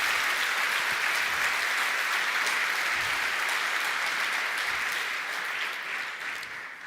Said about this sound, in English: Maybe some big round of applause for that.